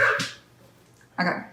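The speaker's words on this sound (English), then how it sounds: "sorry my dog is barking" A single dog barks close by, two sharp bursts separated by a short pause, with one brief word spoken near the end.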